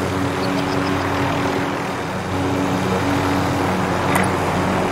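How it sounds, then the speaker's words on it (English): A helicopter in Call of Duty: Warzone on its Pacific map drones steadily and loudly for several seconds, a continuous rotor and engine hum with faint distant clicks over it. "Helicopter here! Helicopter here!"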